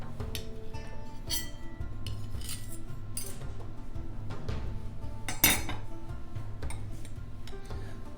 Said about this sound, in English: I'll cut a piece and see if it's not like a custard.